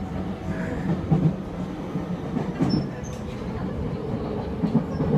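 A Tokyo subway train rumbles steadily along the tracks, with low clattering from the wheels and occasional faint squeaks over the continuous drone.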